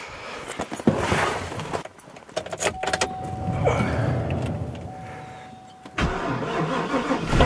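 A car engine cranks and starts in bitterly cold winter weather. Clicks and a strained turnover come first, then a steady idle hum that settles before a louder surge near the end.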